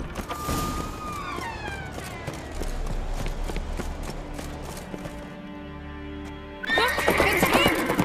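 In The Witcher 3, a horse whinnies loudly, followed by rapid galloping hoofbeats and rushing movement, then another shrill neigh near the end; a tense soundtrack hums underneath.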